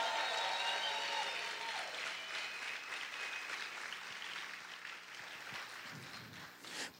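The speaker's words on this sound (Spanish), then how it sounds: "Vamos a gritar y vamos a aplaudir fuerte al Señor." A church congregation applauds and cheers during an evangelical sermon, a steady crowd wash with some shouting that gradually thins out before a sharp burst at the very end.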